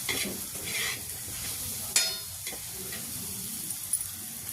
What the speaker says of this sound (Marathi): मिरची आणि लसूण परतून घेते